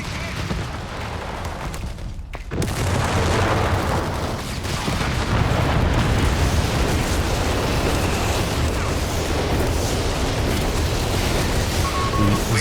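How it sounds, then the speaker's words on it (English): Artillery barrage explosions in the strategy game Company of Heroes 3: a dense, continuous roar of booms and blasts with a brief dip near the start, loud and sustained throughout, mixed with game battle noise. "Oh no, artillery cover coming down."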